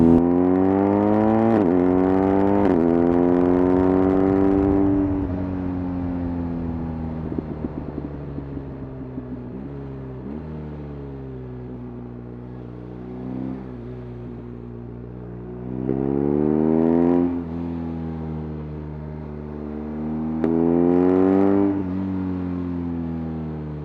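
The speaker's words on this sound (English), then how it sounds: "Let's listen to that exhaust." A motorcycle exhaust revs and rises in pitch several times, loud and close, settling into a steady idle between the blips.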